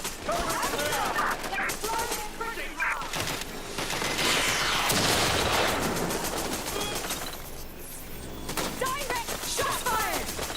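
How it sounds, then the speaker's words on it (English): Gunfire in Watch Dogs Legion online play: sustained bursts of rapid shots and volleys, loud and dense throughout, layered with game noise and a voice speaking at moments. "Direct shot fired!"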